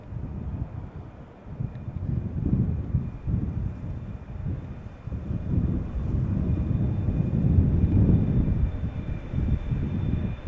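Finnair A350 airliner departing Schiphol Airport, a low, rumbling engine roar that swells and surges with wind buffeting, fairly distant and continuous.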